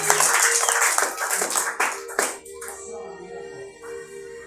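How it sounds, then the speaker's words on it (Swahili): Church congregation clapping in praise, a dense burst of hand claps for about two seconds with a few scattered claps, then a sustained tone lingering as the applause dies away. "Pigie Yesu tena makofi mazuri"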